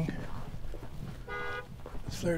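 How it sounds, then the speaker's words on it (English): A car horn gives one short toot from a distance outside abandoned concrete domes, set against steady background noise and nearby movement. "Someone's honking at me, probably the owner."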